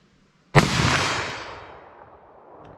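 A single sharp, loud shot from a .357 Magnum revolver fired single action with full-power hand loads, cracking suddenly out of quiet and trailing off in a long outdoor echo.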